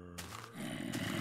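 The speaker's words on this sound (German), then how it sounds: "Das ist ein Höhlengeräusch. Also das hört ihr immer, wenn in Minecraft eine Höhle neben euch ist" In Minecraft, a deep, rumbling cave ambience swells from beneath the player, a low growling drone that briefly rises and then holds steady at a quiet level.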